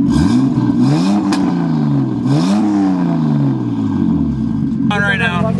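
A drift car's engine is revved repeatedly, climbing and falling in loud rising and dropping sweeps with a rough, throaty tone, and people talk over it.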